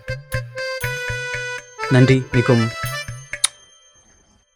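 A phone rings with a repeating electronic ringtone of short tonal beeps, interrupted midway by a brief voice before the tones resume and fade out.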